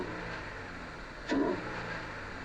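A Toyota GR86/Subaru BRZ with an aftermarket cold air intake gives a quick throttle blip, a brief rising rev that swells above a low idle rumble before settling back.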